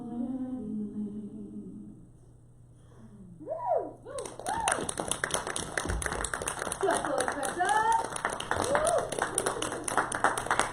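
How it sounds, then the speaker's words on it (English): Church audience applauding a choir after its performance, dense clapping rising in after a sung passage fades, loud and sustained with a few whoops and voices calling over it. "Give them one more round of applause."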